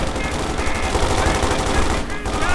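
Rapid, continuous bursts of gunfire in Company of Heroes 2, loud and dense, firing almost without pause, with a brief gap near the end.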